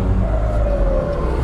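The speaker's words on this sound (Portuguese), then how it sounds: "é o trânsito dos caminhão, né?" Heavy truck traffic rumbling past on a road near a viaduct during flood recovery in Igrejinha, a loud, continuous low engine drone with a faint whine, close by and without talking.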